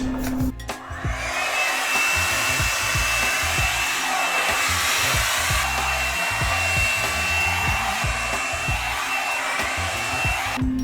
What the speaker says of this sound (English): then we're gonna go ahead and blow it out.